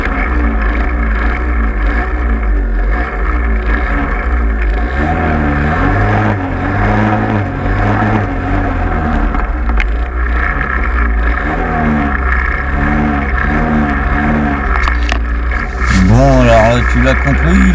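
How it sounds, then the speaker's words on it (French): A small engine running and revving repeatedly in rising and falling bursts, loud and close, with a voice speaking over it. "on se refait un petit démarrage en direct parce que j'en suis assez fier"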